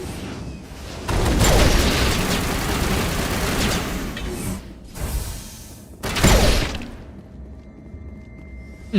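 Explosions and gunfire in Mass Effect combat, with dense loud bursts and booms filling the first half, a brief pause, then another heavy blast around six seconds before fading to quieter ambience.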